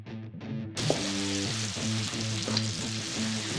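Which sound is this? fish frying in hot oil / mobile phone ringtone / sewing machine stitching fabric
fish frying in hot oil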